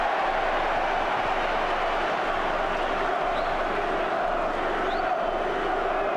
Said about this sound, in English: The crowd are absolutely delighted he's pulled that one wide